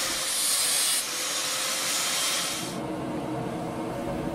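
An angle grinder cuts quick marking notches into twisted steel bars for a pattern-welded Viking sword, a loud, close abrasive whine and hiss that stops after about three seconds, leaving quieter workshop noise.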